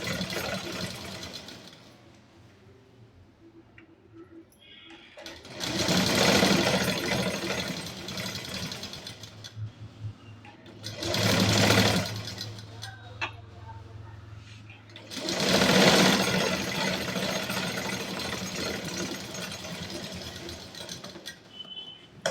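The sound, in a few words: sewing machine stitching panels of an 8-part underskirt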